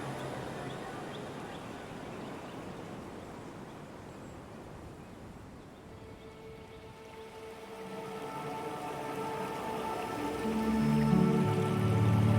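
Water of the River Garnock flows with a soft, steady patter and trickle. It is faint and continuous, growing slightly fuller toward the end, with no voices.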